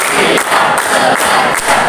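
Students in an Indonesian classroom clap together in a rhythmic chant, loud, crisp group claps landing at a steady beat about twice a second over a lively room.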